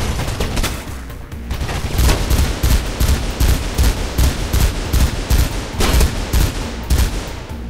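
Rapid bursts of machine gun fire in the video game Mirror's Edge rattle in quick repeated volleys, loud and close, with brief pauses between strings of shots.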